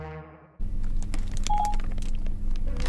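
A phone call is placed through Apple CarPlay on a Hyundai i20's dashboard system, sounding a short series of clear dialing tones over a low steady cabin hum.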